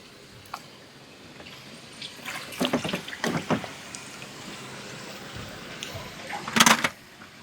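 Pool toys are drained of cold well water outdoors beside a pond, giving quiet, scattered splashes and trickling pours in a few short bursts over a soft background hush.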